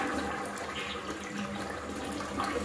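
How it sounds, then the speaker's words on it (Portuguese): A newly installed toilet with a coupled tank flushes, giving a steady, loud rush of water that runs alone for the full length with no voices. "E agora vamos dar a descarga para fechar com chave de ouro."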